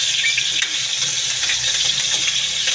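Onions sautéing in a pan for Filipino pork adobo give a steady, broad sizzle that runs without a break, close and fairly loud, with no voices over it.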